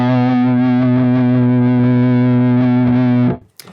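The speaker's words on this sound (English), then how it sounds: "The 80s lead sounds were like super, super loaded with gain." High-gain distorted electric guitar lead through the Neural DSP Archetype Petrucci plugin in an 80s lead style: one loud, thick sustained note ringing steadily for about three seconds, then cut off, followed by a faint click.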